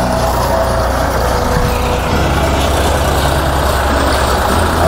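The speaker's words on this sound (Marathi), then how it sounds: "साधारण 1 किलोमीटरची ट्रॅक्टर राईड मिळते." Farm tractor engine during a ride of about one kilometre at a picnic retreat near Pune, a loud, continuous low rumble that runs steadily throughout.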